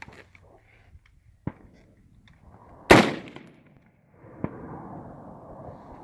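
Three separate AR-15 rifle shots fired with a red dot sight: a faint crack, a loud close report, then a sharper shot followed by a low rumble, with quiet gaps between them.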